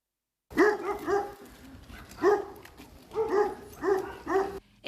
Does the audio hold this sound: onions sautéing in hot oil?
no